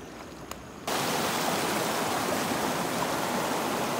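Strong-flowing river in the Philippine countryside, a steady broadband rush that surges in abruptly after a quiet opening and then holds constant and close.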